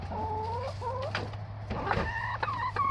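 Hens clucking and crooning close by inside a chicken coop, a run of rising, wavering calls over a steady low hum, with no talk.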